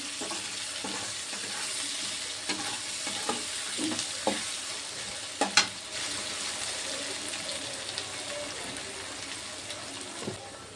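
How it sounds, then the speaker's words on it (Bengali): Ginger garlic paste fries with potato and onion in a pan, a steady close sizzle broken by occasional spoon taps and scrapes against the pan. "এটা একটু ভেজে নেবো। আদা রসুনের নয়তো কাঁচা গন্ধ বেরোবে।"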